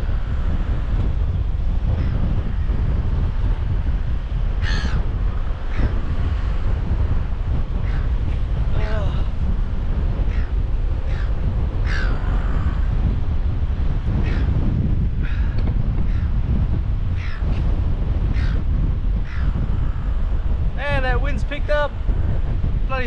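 Strong wind buffeting the microphone on a rock wall by the sea while fishing, a loud continuous roar of gusts, with someone talking intermittently beneath it.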